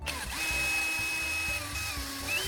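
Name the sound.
electric drill attaching pull tab to tuna can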